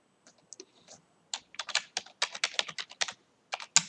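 Computer keyboard keys tapped to type a login password, a short sparse burst of clicks followed after a pause by a quicker, denser run of close, crisp keystrokes.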